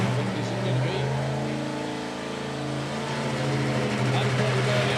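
The Dirty Deeds nitro funny car's engine at a drag strip, idling near the tower with a deep, steady throbbing rumble that dips and swells, while a public-address voice talks over it.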